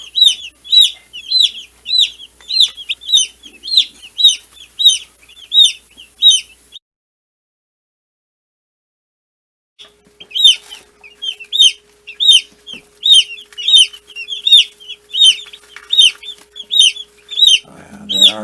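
Meat chickens cluck busily while foraging for food. Their rapid, repeated clucks are close and clear, break off into silence for a few seconds, then resume just as steadily.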